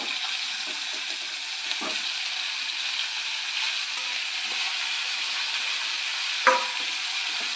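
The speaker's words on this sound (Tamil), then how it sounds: "நல்லா வதக்கிக்கணும்." Onion and tomato with chilli, garlic and cumin sautéing in a little oil, a steady broadband sizzle throughout with occasional soft stirring scrapes, close and continuous with no talking.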